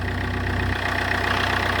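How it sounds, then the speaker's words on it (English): A car engine idles steadily during a home coolant flush, with running water from a hose in the reservoir; a continuous, even low rumble with a slight change in tone partway through, close and moderately loud. "Let the engine run for 2 minutes only."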